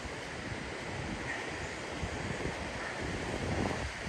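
Whitewater rapids on the Deschutes River rush as a steady broadband roar at a distance, continuous and even with slight swells, with no voices present.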